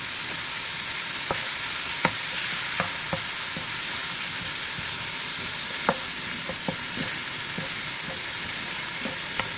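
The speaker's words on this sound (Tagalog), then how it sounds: "Para manuot yung lasa ng ating shrimp paste, igisa natin mga lods" Shrimp paste being sautéed in a wok for Bicol Express, a steady hissing sizzle with scattered sharp ticks and clacks of the spatula against the pan, close and even.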